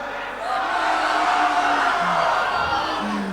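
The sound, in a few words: concert crowd yelling and cheering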